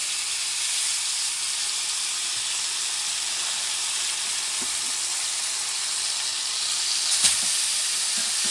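A salmon steak sears in a hot pan, giving a loud, even hiss of sizzling oil that runs steadily throughout, with a couple of faint clicks near the end and no voices.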